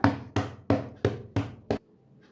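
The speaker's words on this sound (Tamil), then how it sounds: "சென்டர் பக்கத்துலேருந்து மடித்ததுக்கு பிறகு இந்த மாதிரி லைட்டாக தட்டிக்கலாம்." Folded cloth for a yoke nighty neck design being tapped lightly six times in an even rhythm, each tap a short close thud, the last one slightly quicker, with no talking.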